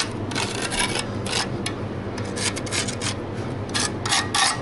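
A hand tool scrapes across a wall's lime plaster finish, with repeated rough, rasping strokes in an uneven rhythm, close and moderately loud, and no talking.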